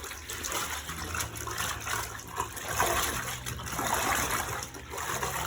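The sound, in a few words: hand washing denim with detergent in water, squeezing and pressing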